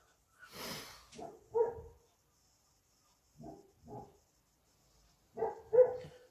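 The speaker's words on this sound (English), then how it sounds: "you can probably hear the puppy downstairs." A small puppy lets out a few faint barks and yips in short bursts with pauses between, heard from a distance downstairs.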